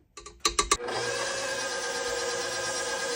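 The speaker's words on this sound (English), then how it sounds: "And now we're going to whisk all of this through." Whisking Jamaican black cake batter darkened with molasses: a few sharp knocks at the start, then a continuous close whirring, mixer-like drone that holds steady to the end.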